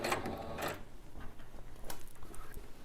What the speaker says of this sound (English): I'm just going to slowly stitch my way down because I want to keep that stitching right at the edge